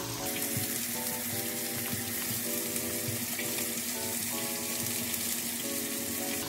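Onion and ginger sizzle steadily in a hot pan of oil, a continuous crackling fry with faint music playing in the background.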